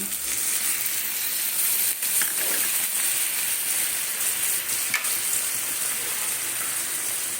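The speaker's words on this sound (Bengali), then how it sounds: "এটা হয়ে গেছে, কষানো হয়ে গেছে, এবারে জলটা দিয়ে দিচ্ছি।" Water goes into a pan of sizzling bean (shim) curry after the spices have been fried down, giving a steady loud hiss and bubbling that carries on throughout with no talking.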